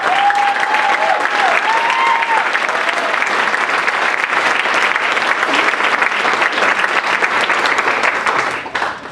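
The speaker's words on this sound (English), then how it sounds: "So I'd like you to give her a round of applause." A large audience at a Shannon Miller celebration gives an assistant coach a round of applause, loud, dense and continuous for about nine seconds, with a brief voice near the start, before it begins to taper off.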